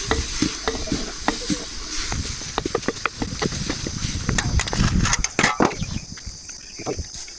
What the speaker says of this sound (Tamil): தண்ணி நல்லா சூடானதுக்கப்புறம் நம்ம வாஷ் பண்ணி எடுத்து வச்சுருக்க கீரையை வந்து இதுக்குள்ளே போட்டுடலாம். போட்டு நல்லா மிக்ஸ் பண்ணிடலாம்.